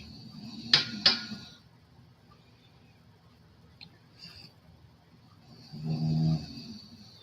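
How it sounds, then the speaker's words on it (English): A woman snoring nearby: a couple of sharp snorts at the start, then quiet, then a longer rasping snore near the end, all soft and low in a still room. "That's my wife snoring."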